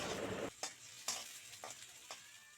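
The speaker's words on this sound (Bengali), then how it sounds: "রসুনগুলো হালকা ভাজা হয়ে এলে এবার পেঁয়াজ কুচিগুলোকে আমি তেলের মধ্যে দিয়ে দিচ্ছি" Chopped onions hitting hot oil that already holds lightly fried garlic, a loud sizzling burst at first, then quieter frying broken by several short stirring scrapes and clicks.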